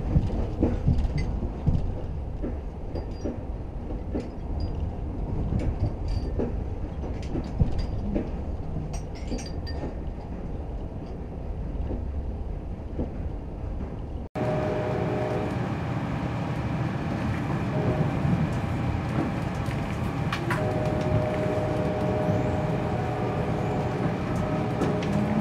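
Amtrak Hoosier State passenger train riding the rails toward Chicago Union Station, a continuous low rumble with clinks and rattles heard from on board, shifting in tone partway through.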